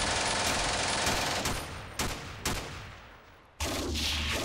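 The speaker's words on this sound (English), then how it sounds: "they're coming in now, all those rounds" Artillery rounds land in the wargame Steel Panthers, a steady wash of rumbling impacts with several sharp bursts breaking through, ending in a fresh loud blast.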